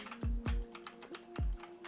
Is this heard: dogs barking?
no